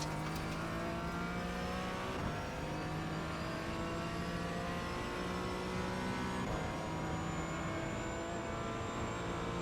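Porsche Cayman GT4 engine in iRacing at the Le Mans circuit, a loud, steady high-revving drone with a couple of abrupt gear changes where the pitch drops and climbs again.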